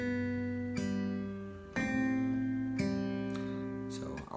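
Solo acoustic guitar plays the opening of a song, a few plucked notes and chords ringing out one after another at a close, moderate level, with no voice over it.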